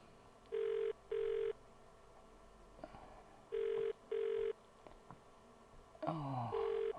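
A telephone ring-back tone repeats in paired bursts while a call waits for an answer, with faint background noises and a brief warbling sound near the end.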